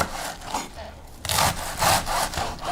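A knife thinly slices crisp cabbage in repeated rasping strokes, close and fairly loud, each slice a short crunchy scrape in a steady rhythm.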